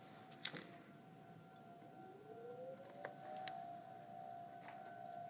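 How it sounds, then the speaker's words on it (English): Federal Signal tornado siren from 2001 sounding during a monthly test, a steady distant wail, rather quiet, with a rising tone sweeping up partway through over faint background noise and occasional clicks. "Alright, today is siren test day. Sirens are on right now."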